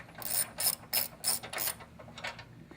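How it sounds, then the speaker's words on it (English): A ratchet clicks in quick bursts, about six of them, while loosening a 10mm bolt near the ABS module of a 2005-2009 Ford Mustang GT, close and fairly quiet with no talking. "now we're going to remove the 10mm bolt over by the ABS module"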